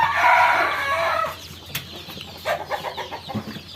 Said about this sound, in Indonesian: anak ayam kita sehat-sehat